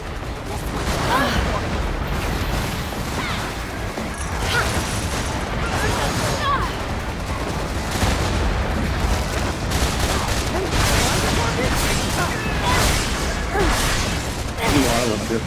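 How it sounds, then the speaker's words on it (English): Dense, overlapping explosions and blasts in the game Freedom Wars Remastered, a chaotic barrage of loud booms and crashes rolling on continuously, with a voice cutting in. "Explosion detected in enemy objective."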